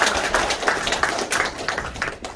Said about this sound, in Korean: 네, 모두 큰 박수로